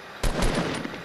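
Two or three sharp gunshots crack close together in Fortnite, loud and near, with a short tail of further shots fading after them.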